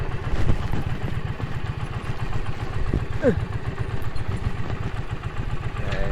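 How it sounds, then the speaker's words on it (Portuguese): A motorcycle engine idles steadily nearby with a low pulsing rumble, a brief rising whine partway through, and faint talk underneath. "estacionar aqui o motociclo."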